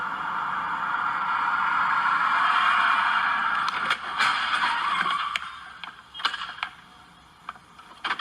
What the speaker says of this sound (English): we actually found the video of how this thing wrecked